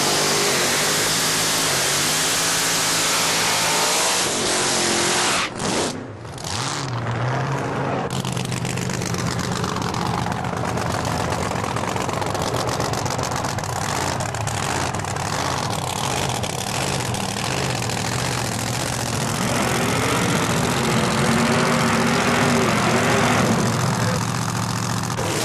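A supercharged Vega funny car at a drag race roars with a dense, loud, continuous engine sound as it revs and idles close by.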